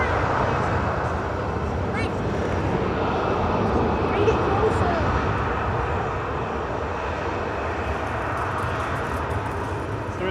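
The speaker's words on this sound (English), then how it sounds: "13-year-old 737-800 departing there," A 13-year-old Boeing 737-800 jet departing Manchester Airport, a steady broad engine roar that holds loud and constant throughout, heard alone without talk.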